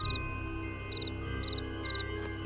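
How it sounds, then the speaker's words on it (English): A small animal in a Nancy Drew game gives short, high chirps in quick bursts, about four of them, faint over a low background hum. "Ooh, I hear a chirp."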